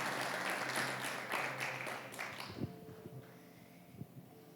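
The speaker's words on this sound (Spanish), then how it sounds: "dele un aplauso fuerte al Señor" A church congregation applauding loudly for a couple of seconds in a dense wash of clapping, which then fades quickly into a quieter room with a few scattered sounds.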